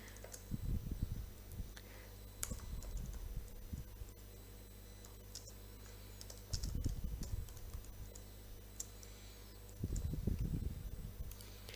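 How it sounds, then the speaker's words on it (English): Keys clatter on a computer keyboard as a single line of code is typed, arriving in three short bursts of rapid clicking over a steady low electrical hum, with quiet pauses between. "Let's try something by writing a single line of code."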